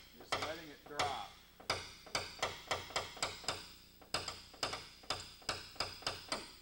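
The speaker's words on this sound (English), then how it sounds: "I'm just barely lifting the hammer above the tapper. Just letting it drop." A hammer dropped lightly onto a tapper to raise a dent in paintless dent repair, giving crisp, evenly spaced metallic taps in two runs with a short pause between, close and clear.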